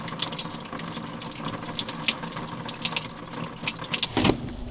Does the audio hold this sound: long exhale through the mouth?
no